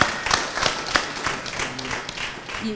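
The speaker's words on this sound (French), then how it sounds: "on l'applaudit très fort" A crowd at a spelling championship claps with scattered, uneven hand claps that gradually thin out, fairly close and moderately loud.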